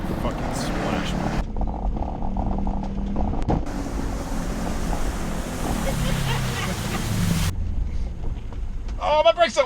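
A Subaru Forester drives off-road through water with a broad rushing splash and wind buffeting on the microphone, while people talk and shout nearby.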